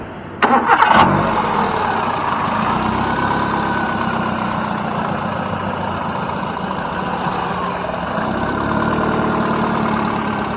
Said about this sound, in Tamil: இப்போ வண்டியோட சவுண்டு எப்படி இருக்குது அப்படிங்கிறத கேட்போம்